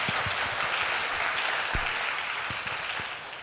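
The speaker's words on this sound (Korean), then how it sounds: "우리 임은민 선교사님 우리 박수로 환영하도록 하겠습니다." A church congregation claps in welcome for a visiting missionary, a moderate, steady patter with a few sharper low knocks, gently fading toward the end.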